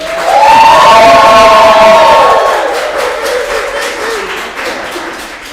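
An audience at a stage event breaks into loud whoops and cheers with clapping mixed in, the noise peaking early and then gradually fading.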